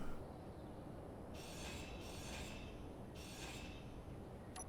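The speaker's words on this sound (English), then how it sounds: "But I need to actually weld up these junctions first, don't I?" A welder in the game Space Engineers works on junctions with two bursts of hissing, raspy tool noise over a low, constant mechanical hum.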